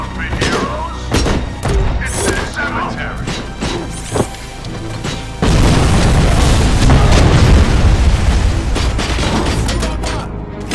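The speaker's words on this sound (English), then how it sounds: "I get to throw a grenade" Grenade blast in the RoboCop: Rogue City video game, a loud booming explosion that breaks in mid-clip and rumbles on after bursts of game sound and speech.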